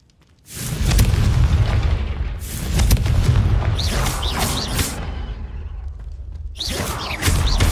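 Loud, deep booms from a Confringo blasting spell explode one after another, with rumbling bursts and crackling debris between blasts.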